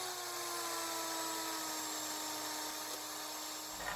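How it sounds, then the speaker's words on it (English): Bandsaw in a woodworking shop setup, spinning up with a rising whine that settles into a steady high-pitched running drone, loud and close, no speech. "A little bit of a rudimentary setup here at the bandsaw, but get her fired up."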